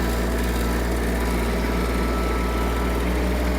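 A Hitachi CX-150 Japanese mini tractor runs while turning on the spot, its small engine giving a steady, continuous drone with a low hum and vibration, unchanging throughout.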